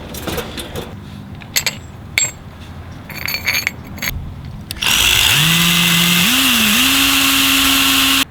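A power tool cuts metal pieces for a motorized shopping kart build, starting after a few clinks and knocks, then a loud, steady high-pitched grinding whine that rises in pitch and holds for several seconds up close.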